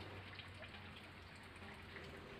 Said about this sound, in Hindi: इन पौधों के लिए तो बारिश का पानी वरदान से कम नहीं होगा।